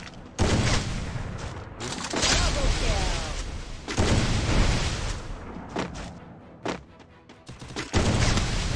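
Gunfire in Garena Free Fire, bursts of shots and heavy booms in clusters separated by short lulls, loud and close, with a voice talking over parts of it.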